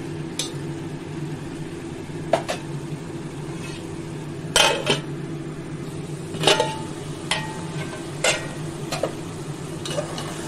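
Pressure-boiled bottle gourd stir-fried with salted lentils in a pan, a soft frying sizzle over a low background hum, broken by irregular scrapes and clanks of the spatula.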